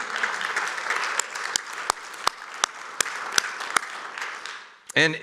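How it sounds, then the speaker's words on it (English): A church congregation gives a warm round of applause, a broad wash of clapping punctuated by sharp individual claps, fading out just before a voice speaks at the end. "let's give God a round of applause"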